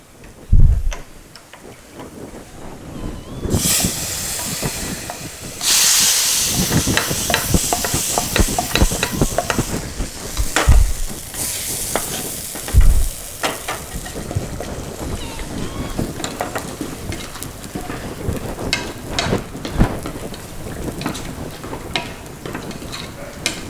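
Chili powder fries in hot oil in a pan for sambar and is stirred, making a steady, close sizzling hiss broken by scraping strokes and occasional louder knocks of the spoon against the pan.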